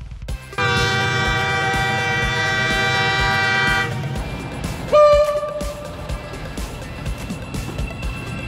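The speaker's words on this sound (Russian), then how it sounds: "Это серый скоростной поезд." A grey high-speed train sounds a long, loud horn blast that lasts several seconds, followed by a shorter toot as its rumble continues on the rails.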